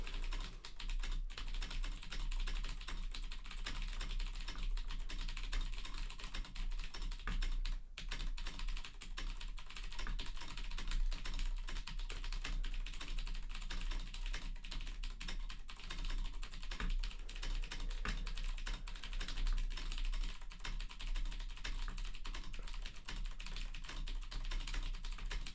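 Fast, continuous typing on a Steam Deck handheld's on-screen or built-in controls, a steady dense clatter of keypresses for the whole stretch with no talking.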